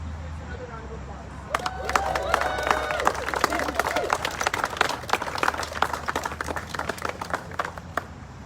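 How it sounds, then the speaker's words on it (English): At an outdoor rally before a university regents meeting, a crowd gives a round of applause, scattered sharp claps and some cheering building after a quieter start and continuing steadily with light crowd murmur. "Can we all give our speakers another round of applause?"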